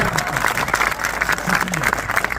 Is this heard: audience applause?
yes